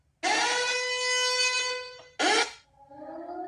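A loud air horn sound effect blasts a sustained, harmonically rich tone for nearly two seconds, then a shorter second blast follows, trailing into a lower fading tone.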